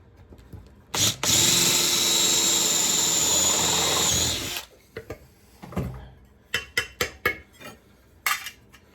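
A power drill drilling rusty metal brackets on a Mazda MX-5 Mk1 whirs loudly for about three seconds, then stops, followed by scattered clinks and knocks of tools being handled.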